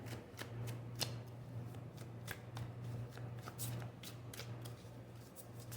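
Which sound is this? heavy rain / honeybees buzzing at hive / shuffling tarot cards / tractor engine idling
shuffling tarot cards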